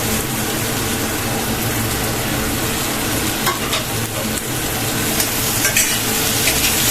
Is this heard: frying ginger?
yes